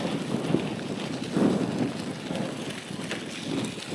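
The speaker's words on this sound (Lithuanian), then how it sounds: "kaip daužo vėjas." Strong wind gusts buffet the microphone during a rural family bike ride with a trailer, a continuous rough roar that swells and fades in bursts, with no clear speech.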